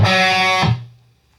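A distorted electric guitar finishes an improvised lick with a loud, buzzing, harmonic-rich sustain that cuts off sharply and then rings down to silence.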